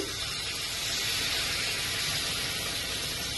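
Hot water poured into a pan of chicken curry with squash and potato, giving a steady broad hissing sizzle that fills the whole short stretch at close range, with no voices.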